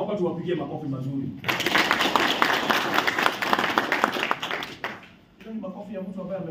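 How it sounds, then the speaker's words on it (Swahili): An audience at Kimani Mbugua's funeral breaks into loud, dense applause for about three and a half seconds, with someone speaking just before and after. "Naomba tuwapigie makofi mazuri."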